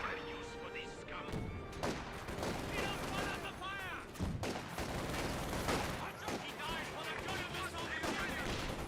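Battle sounds from the Company of Heroes 2 game during a smoke barrage, with dense, continuous artillery thuds, gunfire and crashes filling the scene and voices mixed in.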